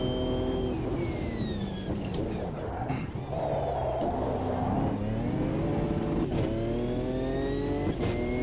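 A Ford GTE race car in the Automobilista 2 racing game, its engine loud and close, revving hard and climbing through the gears with pitch sweeps at each shift.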